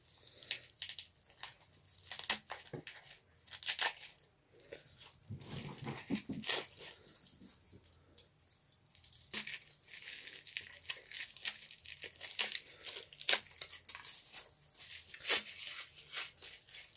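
A package sealed with sticky tape, holding a Jopen NEIPA beer, is ripped and crinkled open in repeated sharp tearing bursts, close and fairly loud, with scattered rustling in between.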